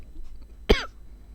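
A single short, harsh cough from a character in The Suffering video game, close and fairly loud, standing alone against a quiet background.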